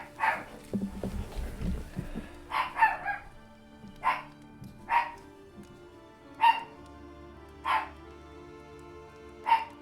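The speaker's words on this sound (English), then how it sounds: "Sorry for the dog interruption." A dog indoors barks repeatedly at package delivery people outside, sharp single barks every second or so, with some speech and background sounds near the start.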